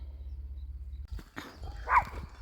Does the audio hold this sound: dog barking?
yes